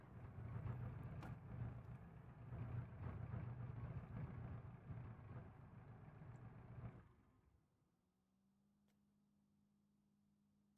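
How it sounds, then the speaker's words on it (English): A boxer engine in a video game car idles at low RPM with a throaty, uneven burble, steady and close for several seconds before cutting out into a faint, constant low hum. "Probably just the sick-ass boxer. Making boxer sounds."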